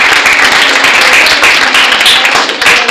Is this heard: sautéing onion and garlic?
no